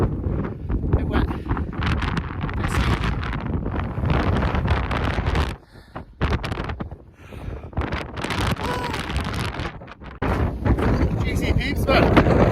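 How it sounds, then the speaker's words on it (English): Strong gusting wind buffeting a microphone on an exposed hilltop in wet weather in Wales, loud and continuous with brief lulls, and faint breathing or murmuring underneath. "Windy, a bit wet."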